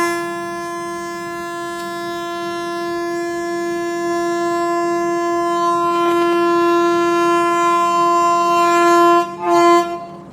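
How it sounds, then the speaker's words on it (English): A train horn sounds for Indian railways during a stop at a station, with a freight train standing alongside. One loud, sustained horn holds for about nine seconds under a low rumble, then gives two short blasts. "This is a clearance of another train"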